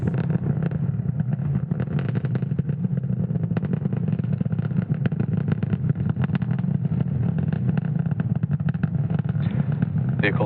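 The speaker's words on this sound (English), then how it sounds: "has successfully lifted off from Slick 40 at Cape Canaveral, Florida at 1:31 a.m. Eastern Time" A SpaceX Falcon 9 rocket lifts off from Cape Canaveral, Florida, its steady, loud, crackling rumble filling the whole stretch without letup.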